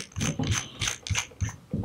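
An atomizer is screwed onto the tube of an Arcabuz vape mod, giving a close series of about six crisp metallic thread clicks and scrapes in quick, slightly uneven rhythm.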